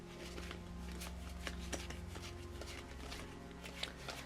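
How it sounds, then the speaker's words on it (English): Marvel Champions cards shuffled during a tabletop game of Captain Marvel versus Klaw, a steady stream of soft riffling and clicking card noise over a constant low hum, with a few sharper snaps. "Then shuffle the encounter deck."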